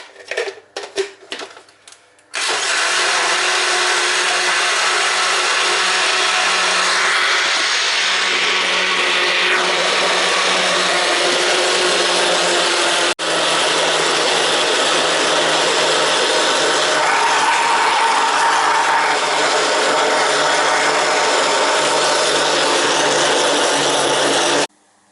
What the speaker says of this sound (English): Place the blender top on, and you are ready to blend.